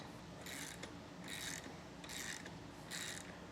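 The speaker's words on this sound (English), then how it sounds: "Pop on the included washer and lock nut, and tighten with a 3/4 inch wrench or socket." A 3/4 inch socket wrench tightens a lock nut and washer onto the stud of a two-speed boat trailer winch, giving four rhythmic bursts of ratcheting clicks, close and moderately loud, with no talk.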